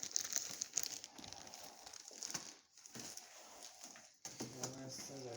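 A car part is pulled from its plastic packaging during work under a 1998 Chevy. Quiet, close crinkling and rustling comes in irregular bursts, with a short pause midway and faint background noise.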